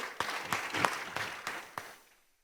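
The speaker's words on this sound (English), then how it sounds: "please, a round of applause" Brief audience applause at an Afreximbank 30th anniversary event: a handful of distinct, moderately close claps in an uneven rhythm that trail off into quiet.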